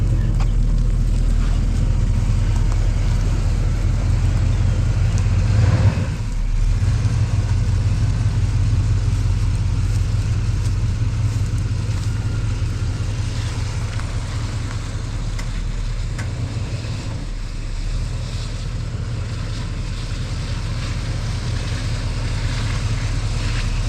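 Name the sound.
1986 Chevy Caprice truck driving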